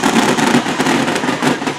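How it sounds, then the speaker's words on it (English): A blue and yellow fireworks show at a high school varsity football game, heard as a dense, continuous crackle and rumble of many bursts carrying from a distance. "a pretty impressive blue and yellow fireworks show out there behind where they ran in at"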